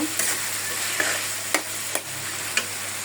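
Ground spice paste with ginger paste fries for a pigeon curry in a pan, giving a steady close sizzle broken by a few sharp clicks and scrapes of stirring, with no talking.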